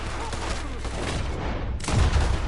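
A Red Dead Redemption video game firefight with a dense, continuous crackle of gunfire, followed by a heavier, louder burst near the end, no clear voices over it.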